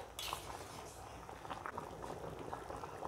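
Fish and taro curry simmering in a cooking pot, a steady soft bubbling and liquid patter that runs evenly and close throughout.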